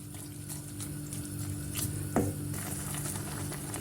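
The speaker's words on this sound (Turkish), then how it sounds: "Lahanamızı kaynamaya başladıktan sonra 5 dakika haşlayalım." Cabbage simmering in a pot of boiling water, a steady soft bubbling and watery patter heard close by with one brief clink partway through, no voices.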